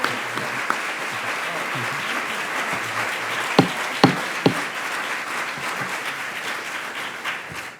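Sustained audience applause in a hearing room during a DREAM Act committee hearing, a steady mass of clapping with a few sharper claps standing out and a faint voice underneath.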